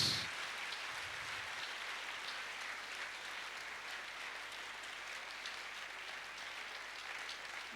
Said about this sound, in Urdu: یسوع ناصری کے لیے زوردار تالیاں۔